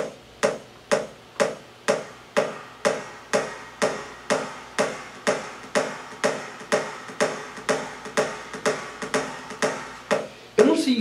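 Kick drum programmed in Ableton Live with an alley-like reverb, repeating as steady evenly spaced thumps, each with a short echoing tail, fairly quiet and alone.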